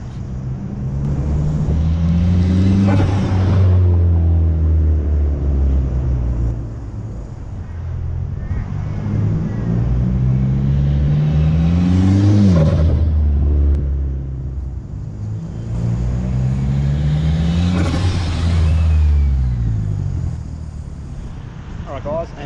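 Mitsubishi Evo X engine with an AEM intake and the airbox lid removed, revved hard three times in a row. Each rev is a loud, close, rising roar that falls back to a rumbling idle.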